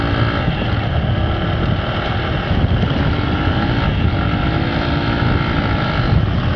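Honda X-Blade motorcycle ridden at around 75-80 km/h, a steady loud engine drone mixed with heavy wind rush across the microphone throughout, with no talk.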